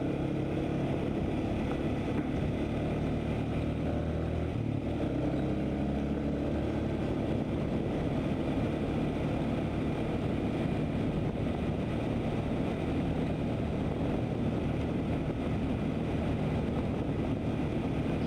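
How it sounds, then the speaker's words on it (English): A Yamaha FZ150i motorcycle engine with stock exhaust drones steadily at a constant level, a smooth continuous rumble with no speech. "I think this bike sounds very nice even with the stock exhaust"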